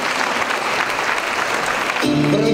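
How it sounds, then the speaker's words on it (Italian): Wedding guests applaud the bride and groom at an Italian reception with live music, a dense, loud burst of clapping that continues as music swells in near the end. "è giunto il momento di fare un applauso agli sposi!"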